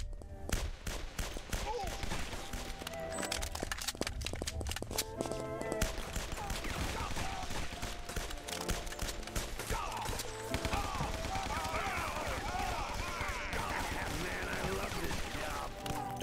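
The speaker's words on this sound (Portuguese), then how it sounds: "Levei uns tiros assim que entrei. Até metralhadora." Bursts of gunfire in the shooter game Guns, Gore & Cannoli, sharp cracks in clusters over game music and effects, with a voice speaking at times.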